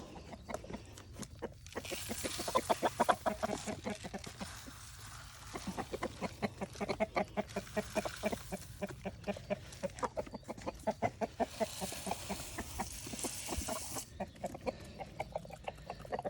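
Several chickens cluck steadily in quick, uneven bursts, fairly close and continuous, with occasional louder squawks standing out.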